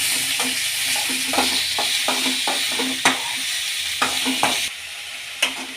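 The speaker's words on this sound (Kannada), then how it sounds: "ಈಗ ಕರ್ಬೇವಿನ ಸೊಪ್ಪು ಹಾಕೊಳ್ಳೋಣ ಈರುಳ್ಳಿ ಮಿಕ್ಸ್ ಮಾಡ್ಕೊಳ್ಳೋಣ" Curry leaves and onion frying in oil with a steady sizzle, a spoon stirring them in the pan and scraping or tapping the metal every second or so, close and fairly loud.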